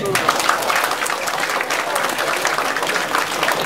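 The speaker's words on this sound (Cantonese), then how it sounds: "喺場外俾熱烈嘅掌聲歡迎佢哋" Loud, continuous applause from a crowd welcoming guests at the opening of a flagship store at Tai Po Mega Mall, with a voice speaking over the clapping throughout.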